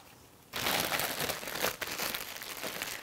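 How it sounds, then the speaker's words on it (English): A plastic bag crinkles loudly around spelt pie crust dough as it is wrapped, dense continuous rustling and crackling starting abruptly after a quiet half second. "Now this is going to go into a plastic bag"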